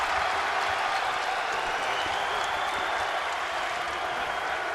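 A sellout crowd in a basketball arena at a Wisconsin at Western Kentucky college game applauds, a dense, steady roar of clapping and cheering that holds at a loud, even level throughout.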